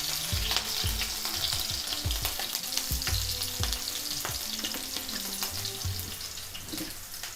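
Green chillies and garlic frying in oil for a radish bhaji, a continuous crackling sizzle with rapid popping spits and occasional stirring, close and steady throughout.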